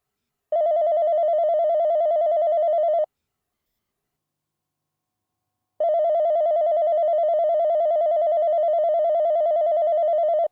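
A wall-mounted telephone line gives two long, steady electronic ring tones of about two and a half seconds each, separated by a few seconds of silence, clean and loud with no voices.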